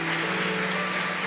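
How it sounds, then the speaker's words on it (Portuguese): A church congregation applauding, a dense continuous wash of many hands clapping together, loud and steady throughout. "Dê um aplauso agora para o Senhor."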